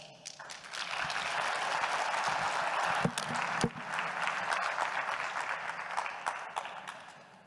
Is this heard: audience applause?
yes